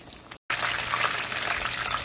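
Breaded chicken cutlets for chicken parmesan fry in hot oil, giving a loud, even, close hiss that cuts out briefly near the start and then runs on unbroken.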